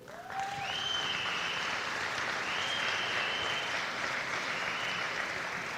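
An audience applauds in a hall at a high school boys basketball event. The clapping is loud, dense and sustained, and a few whistles and cheers rise above it.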